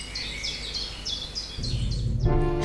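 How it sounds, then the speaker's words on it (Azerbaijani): A forest bird repeats a bright chirping phrase in a steady rhythm, moderately close, over a low rumbling background that grows louder toward the end. "İlin bütün fəsillərində meşələrdən quş səsi eşidilir."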